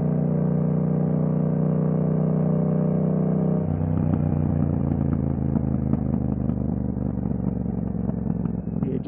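A Yamaha MT-07 motorcycle ridden through Abu Dhabi, its engine droning steadily and loud, then shifting to a rougher, pulsing tone with clattering mechanical detail partway through, heard up close without talk.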